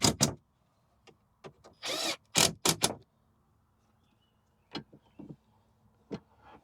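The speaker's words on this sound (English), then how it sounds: "Come back through with our impact gun." An impact gun drives 8 millimeter bolts on a 2015 Ford Transit 250, firing in several short, loud bursts with brief hammering rattles, separated by quiet gaps and a few fainter blips later on.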